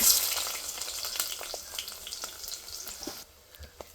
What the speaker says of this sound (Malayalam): അപ്പോൾ കടുക് ഇങ്ങനെ പൊട്ടി പൊട്ടി വരുന്നുണ്ട്